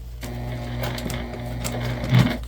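A sewing machine stitches fabric for a bucket bag, a steady mechanical hum with light rhythmic ticking, close and continuous, with a slightly louder bump near the end.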